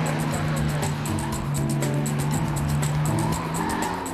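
A 1995 Toyota Land Cruiser labours up an uphill rally course, its engine droning loud and steady with a rising and falling pitch and a faint rapid ticking above it.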